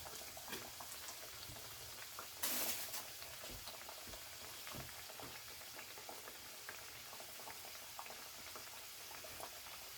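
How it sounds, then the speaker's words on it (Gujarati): Sata sweets frying in oil, giving a steady faint crackle and bubbling throughout, with a brief louder hissing burst near the middle. "આ રીતે બધા સાટા આપણે તળી લઈશું."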